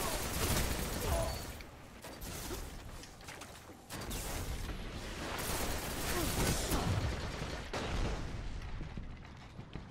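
Monte Carlo gun in a shooting video game firing in dense, continuous bursts, loud and close, with short gaps between volleys and a few mechanical clatters.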